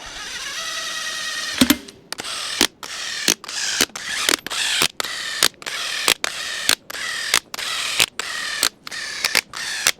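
A ratchet snugs down cylinder head bolts on a DT-466E diesel engine during a rebuild, giving a brisk run of loud clicking strokes with short pauses between them, close and steady with no talking.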